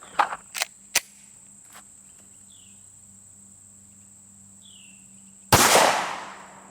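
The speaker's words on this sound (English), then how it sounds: "we're gonna shoot the 40 Smith Wesson out of the Glock 23" A Glock 23 pistol fires a .40 S&W 180-grain Speer Gold Dot round into a gel block. A single loud, close shot with a decaying tail comes after a few light clicks, with a steady insect drone in the background.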